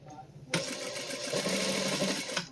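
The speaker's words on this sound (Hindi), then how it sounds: "ये धागे पे हाथ रखेंगे और मशीन को इस तरह से चलाएंगे।" A sewing machine runs a continuous stitching burst along a double-folded shalwar hem, starting abruptly after a brief quiet moment and whirring steadily at close range.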